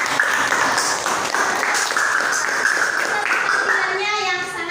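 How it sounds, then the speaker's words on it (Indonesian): Classroom applause from a group of students, continuous loud clapping that holds steady for several seconds before thinning out, with children's voices mixed in. "Tepuk tangan untuk kita hari ini."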